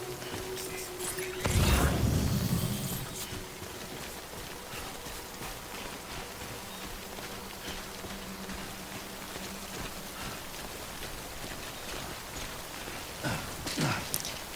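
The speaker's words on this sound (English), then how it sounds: "Good thing it was raining." Rain pours down in the video game Death Stranding, a steady hiss of drops on surfaces lasting throughout, broken early by a loud low boom and a few sharper knocks near the end.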